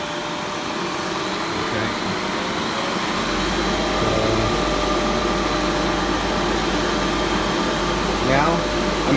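A refrigerant recovery machine switches on about a third of the way in and settles into a loud, steady mechanical hum with a low motor drone, running continuously under a brief spoken word.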